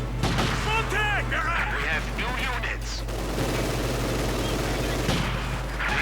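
Battle gunfire from Company of Heroes 2, with rapid bursts of shots and explosions from infantry and Raketenpanzerbüchse stovepipe anti-tank weapons, loud and continuous under a commentator's steady talk and a constant low hum.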